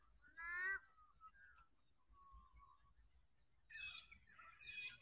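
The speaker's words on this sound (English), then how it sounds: "Lots of bird noise." Early-morning birds call around Wentworth Falls Lake: a few loud, harsh squawking bursts close by, with soft whistled notes drifting in between over a quiet background.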